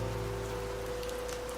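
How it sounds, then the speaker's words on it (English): Steady rain falls outside, a soft, even patter that holds unchanged throughout with no voices over it. "Outside, the rain kept falling, the same, and yet somehow brand new."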